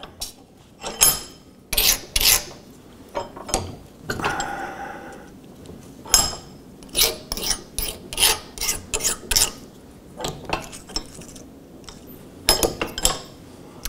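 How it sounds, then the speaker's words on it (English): A file rasping across the sharp corners of a steel armor plate in a blacksmith's workshop, with a series of short, bright scraping strokes in an uneven rhythm, close and clear, with small metallic clinks between strokes. "it's wise to take a file and just clean those off a wee bit"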